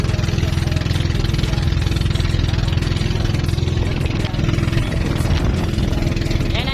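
A motorboat engine chugs loudly and steadily up close, a continuous rhythmic drone.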